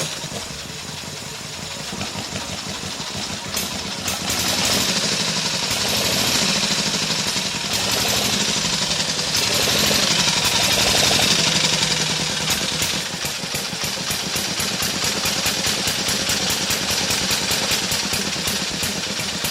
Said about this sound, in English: Well, as you can see, the old Elk runs great.